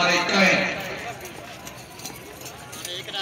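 A horse galloping hard during a Neza Bazi tent-pegging match in Sargodha, quick clip-clop hoofbeats closing in and then fading away, under a loud announcer calling over a public address system.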